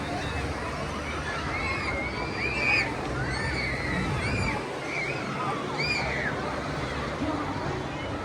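Waves in a wave pool at a waterpark slosh and splash steadily nearby, under a constant background of crowd chatter and distant shouts.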